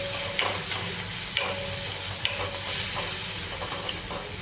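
Ground peanuts and coriander-cumin powder are stirred into a sizzling bitter gourd curry in a pan, with soft sizzling and a few sharp spoon taps and scrapes against the pan, close and without voices.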